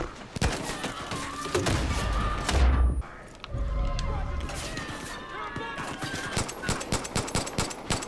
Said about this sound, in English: I have a grenade launcher.